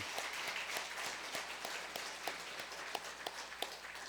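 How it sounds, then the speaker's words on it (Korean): A small church congregation claps steadily for a few seconds during a missionary commissioning service, a soft, fairly distant patter of hands with no voices over it. "우리 다 같이 박수하겠습니다"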